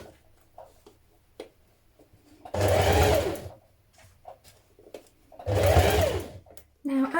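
A domestic sewing machine stitches a seam on an unlined winter coat in two sustained runs of a few seconds each, separated by quiet handling noise and small clicks, recorded close up.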